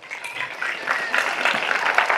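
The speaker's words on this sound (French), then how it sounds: "Alors applaudissez pour vous-même." Children at a school gift ceremony and computer room inauguration applaud themselves, a lively patter of small hands clapping that builds quickly and stays busy, close and fairly loud.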